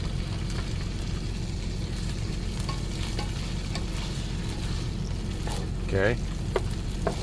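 Meat sizzling steadily in a pan inside a truck while a utensil stirs and scrapes it now and then, close and continuous, with a brief spoken word partway through.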